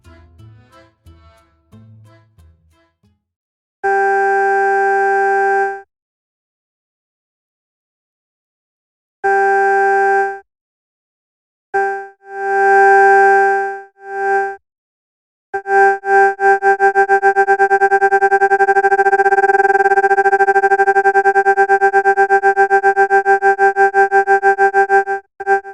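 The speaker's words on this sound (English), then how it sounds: "I want to bring in some life to this pad by modulating the volume with the LFO" A synth pad in a Cakewalk by Bandlab session plays steady harmonic tones in separate bursts, then a sustained stretch whose volume pulses rapidly and evenly under LFO modulation, loud and clean with no talk.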